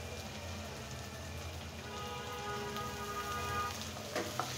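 Ginger paste frying in hot oil, a steady soft sizzling patter like rain, gently rising in intensity, with a brief clink of a utensil near the end.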